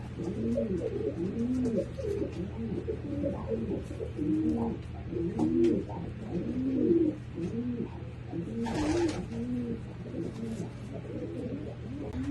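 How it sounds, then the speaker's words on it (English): Pigeons in a breeding loft coo repeatedly in soft, rolling phrases, several birds overlapping over a low steady hum, with a brief rustling burst near the end. "Nice pigeon."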